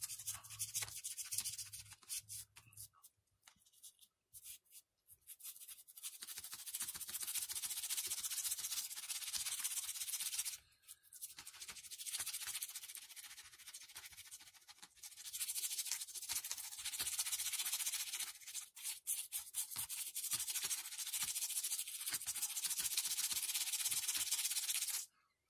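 Brush scrubbing drill-softened old paint off a 1997 Warhammer 40K Predator tank model, a steady bristly rasp in long continuous strokes with brief pauses, close and fairly loud with no talking.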